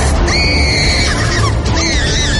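A woman in a horror story screams loudly and close up, two long, shrill, wavering cries, the second following after a brief break.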